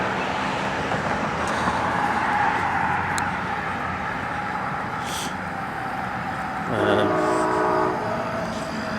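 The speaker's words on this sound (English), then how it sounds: "That freight train's still going" A long freight train rolls past a roadside in America, a constant loud rumbling roar with clanking wagons, and a sustained horn-like tone sounding near the end.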